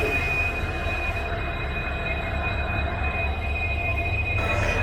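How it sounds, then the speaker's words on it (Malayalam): The Sabari Express rolls into Shoranur railway station with a continuous high metallic wheel squeal over a heavy, close rumble of passing rail cars. "Meanwhile, Shabari arrives at Shoranur."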